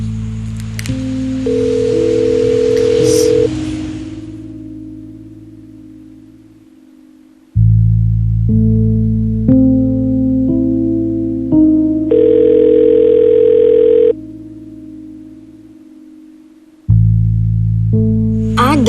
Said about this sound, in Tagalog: Joshua, sagutin mo yung tawag ko